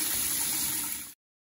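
Shower water sprays in a steady hiss before a float tank session, running briefly and then cutting off abruptly into silence.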